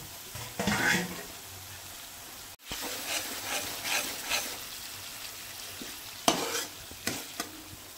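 Spice masala frying in oil for a vegetarian mock-fish curry, crackling and sizzling close up with repeated stirring scrapes, cut by a brief silent gap midway.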